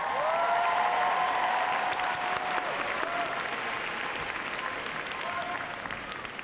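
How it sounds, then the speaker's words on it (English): A commencement audience of supporters and graduates breaks into a loud, dense round of applause that holds steady, with a few voices and whoops audible over the clapping as it gradually eases. "So graduates, let's give all of your supporters a round of applause."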